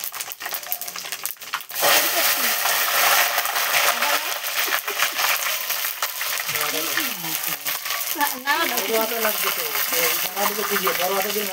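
Panch phoron spices hit hot oil in a wok and set off a sudden, steady crackling sizzle that keeps going while people talk close by in a home kitchen.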